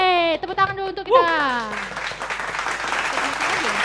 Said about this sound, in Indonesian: Yeay, tepuk tangan dulu untuk kita.